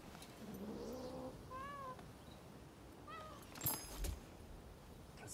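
A cat meowing in the video game Rise of the Ronin, several short rising-falling meows spaced a second or so apart, fairly faint, followed by a brief clatter near the end.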